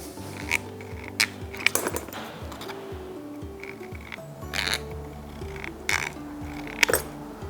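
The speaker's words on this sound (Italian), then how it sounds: "la tagliamo sempre con le forbici per lastra" Sharp metallic snips and clinks in a loose, irregular rhythm, close up, as tin snips cut through thin sheet metal.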